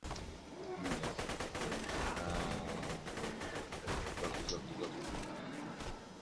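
Rapid bursts of automatic gunfire crackle continuously and loudly, with sharp repeated shots from the video game Borderlands 2.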